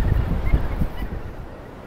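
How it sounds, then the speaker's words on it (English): Gannet colony calling from a rock at Muriwai Beach, New Zealand, a dense chorus of harsh, overlapping honking croaks at moderate distance, continuous over wind and surf. "look at all the birds down here on this rock"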